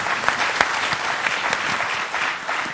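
An audience claps for a conference panel, steady and fairly loud applause from a mid-sized crowd that runs the whole way through with no talking.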